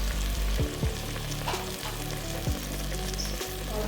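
Mutton paye sizzles steadily in hot oil with cumin powder, turmeric and salt as it is roasted, a continuous close frying hiss broken by a few metallic scrapes of the spoon against the pan.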